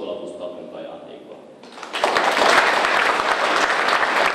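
Big applause breaks out at a school year opening ceremony at a church school center in Szepsi, the crowd clapping loudly and densely after a voice speaks over a quieter start.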